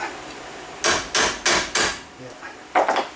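An air hammer pounds a Ford Fusion ball joint to loosen it: four loud, evenly spaced metallic bursts, a pause, then a shorter final cluster of hits, close up with no talking.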